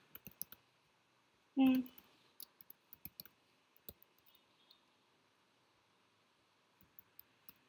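A computer mouse gives a few sharp, quiet clicks amid a string of faint ticks, with one short louder burst partway through and a near-silent background.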